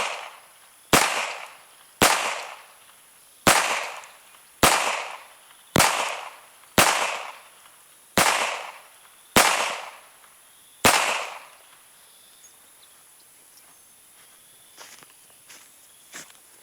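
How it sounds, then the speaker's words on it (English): A Beretta U22 Neos .22 pistol fires ten sharp, evenly spaced shots at an outdoor range target, each crack followed by a short decay, then quiet ambience. "I got 10 rounds in it. I'm going to go to probably half the distance, and I'm going to put all 10 on that top target."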